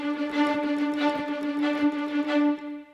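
High staccato strings from the Iconica Sketch sample library pulse in a rapid, even repeated note pattern on a sustained pitch, heard alone and fading at the end.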